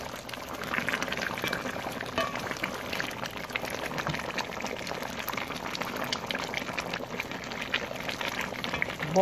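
A pot of seasoned chicken back boils hard, with dense, continuous bubbling and popping close up, steady throughout, no voices.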